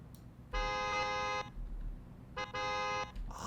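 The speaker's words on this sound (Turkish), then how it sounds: "Kornası nasıl?" BMW i8 horn in the Car Simulator 2 video game: two clean electronic honks, the first about a second long and the second slightly shorter, loud and close with no talk.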